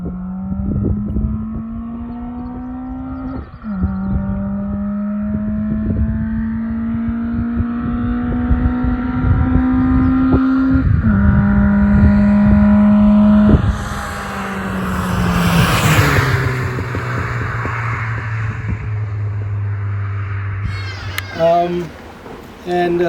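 A Honda BP swap engine with individual throttle bodies drones loudly and close at held revs that step up and down, then drops to a lower idle near the end.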